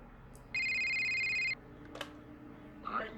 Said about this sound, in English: I hate the sound of the phone.